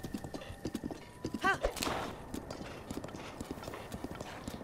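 Hooves of a horse in the game Zelda: Breath of the Wild clip-clop in a quick, even rhythm, broken by a short whinny partway through, under a voice talking.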